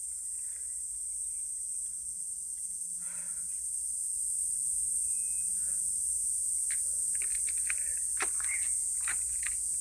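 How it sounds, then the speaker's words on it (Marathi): Crickets shrill in a steady, dense high chorus by a jungle pond in late morning, continuous throughout, with faint scattered clicks and chirps underneath. "दिवसा सुद्धा रातकिड्यांचा किर्र आवाज येतोय."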